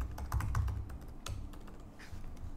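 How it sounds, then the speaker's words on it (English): A password typed on a computer keyboard: a close, rapid run of light key clicks, then a brief lull and a few more taps, with no voices. "type in your domain name,"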